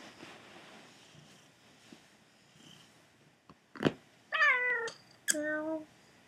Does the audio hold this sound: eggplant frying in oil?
no